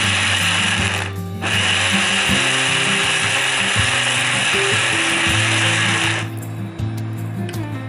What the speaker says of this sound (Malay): Kisar dalam blender sampai halus.